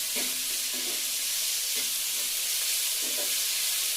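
Moong dal tempering fries in hot oil in a pan, with salt added for a spinach and moong dal dish, giving a steady close sizzle broken by a few soft stirring scrapes and no voices.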